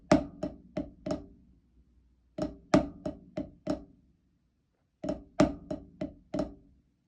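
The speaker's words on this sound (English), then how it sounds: "Next, the flamacue sounds like this." Flamacue rudiment played on a single drum: three groups of crisp, grace-noted strokes, each group of five hits separated by pauses. The hits are close, dry and moderately loud, and there is no talking.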